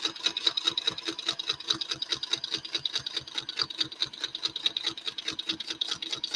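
A sewing machine stitching a quilt runs steadily at close range, its needle clattering in a fast, even rhythm throughout with no pauses and no voices over it.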